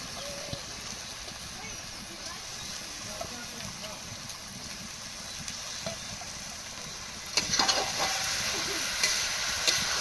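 Rice being stirred into fish-head masala in a pan for a Bengali muri ghonto, with steady soft scraping and a faint sizzle throughout and a slightly louder clatter near the end.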